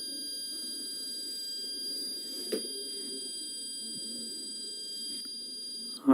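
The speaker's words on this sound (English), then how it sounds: "When the sensor is detected the alcohol, the buzzer is on and the engine is off." A steady electronic buzzer tone from an alcohol-sensing engine lock project sounds continuously, high-pitched and constant over a low background hum, with a brief click near the middle and a bump at the end.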